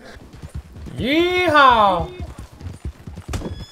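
A horse in the Red Dead Online video game lets out a loud, rising and falling neigh lasting about a second, amid soft clip-clop hoof steps, while someone shouts and talks excitedly over it.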